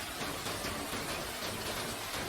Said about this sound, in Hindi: बारिश से भीगने से बच सके।